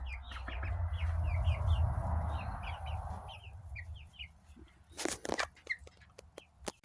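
Chickens, including pullets and cockerels, cluck and chirp repeatedly nearby over a low rumbling hum, followed by a few sharp bumps and rustles.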